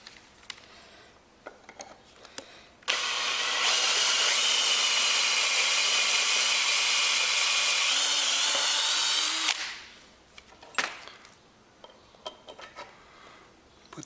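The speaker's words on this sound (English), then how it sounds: "I'm just getting ready to drill in for the carriage bolts." A power drill bores holes for carriage bolts in a boat trailer, one continuous loud whine lasting about seven seconds between quieter stretches of handling noise.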